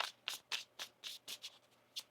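Tarot cards are riffled and shuffled by hand in a quiet room, giving a run of about nine crisp, papery bursts in an uneven rhythm, close to the microphone and fairly soft.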